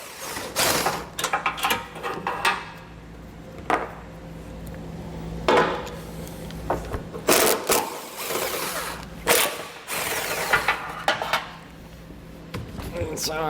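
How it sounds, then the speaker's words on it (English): Bolts on a 2022 Subaru bumper beam being loosened with a 14mm socket on an extension, heard as intermittent ratcheting and clanking metal clicks in uneven bursts, with someone talking between them. "we're gonna use a 14mm and an extension to pull these out."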